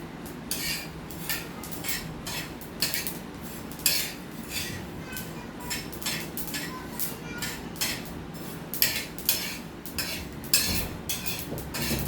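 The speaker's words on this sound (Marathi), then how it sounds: "आता हे कारळे मी भाजत आहे." Niger seeds are dry-roasted in a pan and stirred with a metal utensil, giving a steady run of sharp clinks and scrapes against the pan at close range, repeating roughly every half second.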